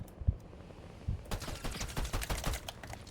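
Rapid bursts of rifle gunfire from the Fortnite video game, starting with a couple of isolated shots and then a dense, crackling volley of repeated reports.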